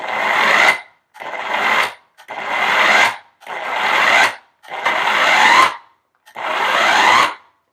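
A food processor chops and mixes baked falafel ingredients, including ground cumin, in six loud, close pulses of about a second each, separated by short silences.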